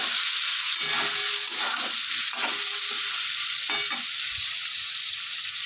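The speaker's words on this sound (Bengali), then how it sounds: "তাহলে পনিরগুলো আমরা ভেজে নিচ্ছি এই সব পনিরগুলো দিয়ে দিলাম ভালো করে ভেজে নেবো" Paneer frying in a pan hisses in a loud, continuous sizzle up close, broken by a few soft stirring strokes against the pan, without talk.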